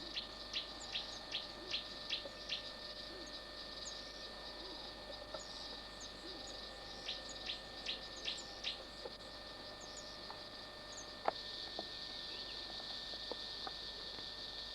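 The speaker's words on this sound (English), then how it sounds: "Hear all the beetles and birds in the background." Birds chirp and call in repeated bursts over a steady chorus of beetles and insects in early-morning African bush in the Eastern Cape, a continuous natural ambience without talk.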